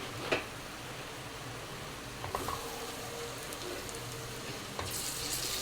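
Eggs fry in a pan of garlic chili paste, a steady soft sizzle with faint spatter and an occasional clink of a utensil, quiet and unbroken, no talking.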